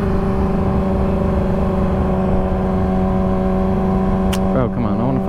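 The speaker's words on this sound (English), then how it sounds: "I don't like letting off the throttle as soon as I shift up." A motorcycle-like engine holding a loud steady drone with harmonic whine, then a brief rise and pitch wobble near the end as it shifts up on a quick shifter; no talking.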